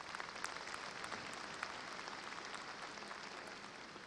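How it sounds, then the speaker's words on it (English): A commencement ceremony audience at Texas A&M-Corpus Christi gives a sustained round of applause, a steady, fairly faint patter of many hands clapping in a large hall. "Let's give them a round of applause as well."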